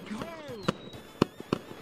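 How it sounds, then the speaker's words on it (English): Fireworks show celebrating a win at a backyard slip and slide challenge, with several sharp bursts and pops spaced out over a whistling rise, heard under people talking. "I got a fireworks show for my victory."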